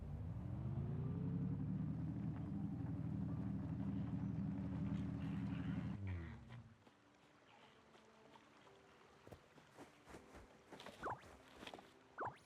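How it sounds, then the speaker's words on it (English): A car drives in the game Heartopia, a steady low engine rumble that holds loud and even for several seconds before cutting off abruptly, leaving quieter scattered ambient noises and a few short chirpy tones. "Okay, we'll use the car."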